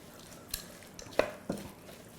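Nam tok, a Thai grilled steak salad of sliced beef and herbs, gets tossed in a bowl: a few soft clinks and scrapes of utensils against the dish, brief and fairly quiet, with no voices.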